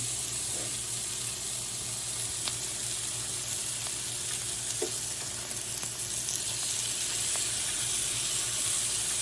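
Chicken pieces fry in a pan with a steady, close sizzle and hiss, broken by a few soft clinks and crackles, and no voices.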